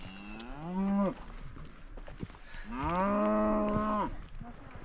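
A cow moos twice nearby in Georgia, a short low call followed by a longer drawn-out one, with light background noise between them.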